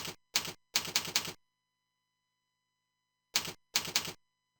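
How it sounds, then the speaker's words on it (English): Keys struck on a computer keyboard while typing a file name: two quick clusters of crisp, close clicks, roughly five strokes each, separated by a silent pause. "Type my file name."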